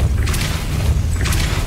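Depulso spell cast in Hogwarts Legacy, giving two short whooshing bursts with low rumbling thumps, loud and close.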